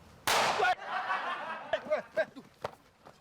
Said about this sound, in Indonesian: Siang-siang main mercon lu.